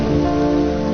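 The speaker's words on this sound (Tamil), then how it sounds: "மழை ஸ்டார்ட் ஆகிடுச்சு நல்லாவே" Steady rain pours down at a hill temple on a trekking route, a dense, even hiss with no break and no voices, fairly loud throughout.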